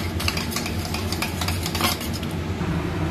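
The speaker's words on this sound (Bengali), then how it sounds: "2 চামচ মতো দই আমি এটা একটু গুলিয়ে ফেটিয়ে নিচ্ছি।" About two spoonfuls of yogurt whisked in a bowl, with quick repeated clinks and scrapes of a utensil against the bowl. The stirring rhythm is continuous and close by, and no one speaks.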